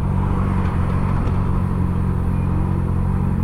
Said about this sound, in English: there's like tons of like loud ass cars